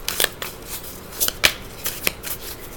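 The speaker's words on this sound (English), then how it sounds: "Let me shuffle these again." Cards are shuffled by hand in several quick, crisp riffles and slaps, close to the microphone, with no talking.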